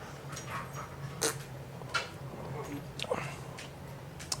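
Dogs in a house pant and give brief whimpers, with several short, sharp bursts standing out over a low steady hum, all fairly quiet.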